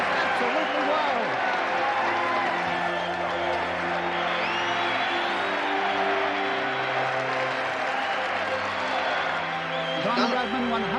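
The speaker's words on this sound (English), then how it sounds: "The crowd goes absolutely wild." A large cricket crowd roars and applauds for Don Bradman's century, with steady dense cheering, clapping and whoops held at full volume throughout while a commentator's voice may be faintly present.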